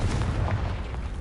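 Blasting spell explosion from the video game Hogwarts Legacy, a dense, sustained burst of noise with a heavy low rumble that stays loud across its short span, with no pauses or separate hits.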